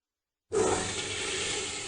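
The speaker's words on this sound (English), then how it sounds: "After using the toilet and flushing it" A household toilet flushes in a bathroom in the morning: a sudden loud rushing of water bursts in after a moment of silence and keeps pouring steadily, close by and alone.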